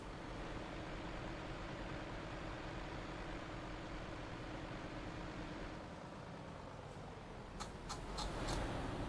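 Low, steady rumble of truck engines from other players in the TruckersMP driving game, a faint continuous drone throughout with a few brief higher clicks near the end.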